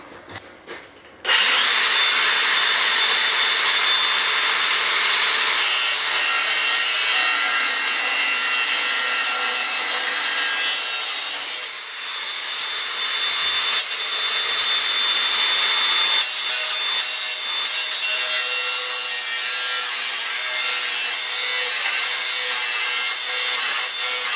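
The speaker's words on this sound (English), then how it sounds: "I'll put a cutting disc in the angle grinder and do it with that" An angle grinder fitted with a cutting disc slices through sheet metal on an old log burner under repair, a loud continuous harsh grinding that runs almost without pause for over twenty seconds after a brief quiet start.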